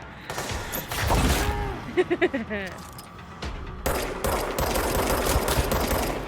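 Rapid gunfire in the video game Control, bursts of loud crackling shots mixed with pulsing effects and impacts, while a person talks over the action.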